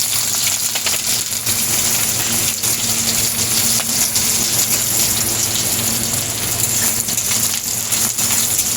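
Onions dropped into hot oil tempered with cumin seeds, frying in a pan: a loud, steady, rain-like sizzling hiss that carries on unbroken, with no voices.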